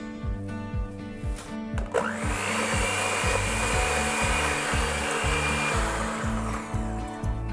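Electric hand mixer whirring loudly as it beats softened butter with sugar, with a rhythmic clatter of beaters against the bowl underneath a steady high whine.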